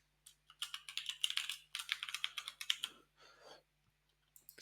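Close, quiet computer keyboard typing in quick bursts of key clicks with short pauses, as a username and password are entered, over a faint steady hum.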